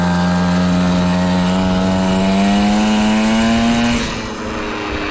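Belt-driven engine vehicle pulling away gently, a loud steady engine drone whose pitch climbs slowly for four seconds, then drops and settles into a lower idle-like hum.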